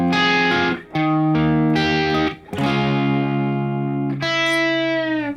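An electric guitar with distortion plays the pre-chorus of a song, a series of loud sustained chords and notes with brief breaks between them, close and alone.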